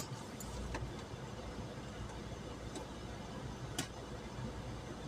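A car rolls backward in neutral up an apparent uphill slope at the anti-gravity spot in Świeradów-Zdrój, a steady low rumble of engine and tyres with a few faint clicks and no talking.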